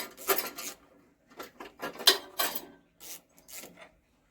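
A socket wrench undoes bolts on the starter motor of a Wheel Horse A81 with an 8hp Briggs and Stratton engine. Short bursts of metallic ratchet clicking and clinks come up close, separated by brief quiet pauses.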